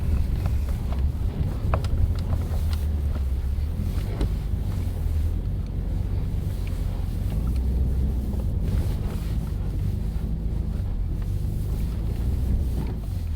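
A Mini Countryman SUV drives on rough terrain, its steady low engine and road rumble continuous throughout, mixed with heavy wind buffeting and no voices.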